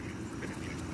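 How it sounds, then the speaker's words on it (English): A tame duck being hand-fed quacks up close, a brief loud nasal call filling the short moment. "Quack, quack."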